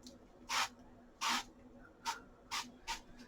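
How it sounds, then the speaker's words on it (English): Five short hissing bursts of avocado oil spray onto a silicone baking pan in a kitchen, evenly spaced and close, each a brief airy spritz with quiet pauses between and no talking. "I'm going to go ahead and spray my silicone pan with some avocado oil."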